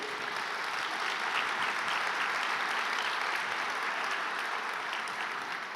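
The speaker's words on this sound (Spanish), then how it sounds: "Dele un fuerte aplauso al Señor." A church congregation applauding at a Sunday service, dense, steady clapping from many hands that holds at an even level throughout without pause.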